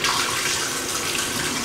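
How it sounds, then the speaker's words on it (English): Running water rushes steadily into and around the bowl of a Delonghi Caffe Corso espresso machine during a rinse after descaling with acid, a loud, close, continuous splashing flow with no pauses. "just to give this a proper rinse out"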